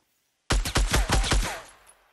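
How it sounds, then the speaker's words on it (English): A rapid burst of gunfire in the Fortnite battle royale video game, about six loud close shots in quick succession followed by a fading echo tail, alone with no talk. "Where's that shooting coming from?"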